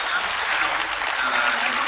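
Crowd cheering and applauding at a Dota 2 Epicenter esports event, a dense continuous roar of clapping and shouting that stays loud throughout the short moment.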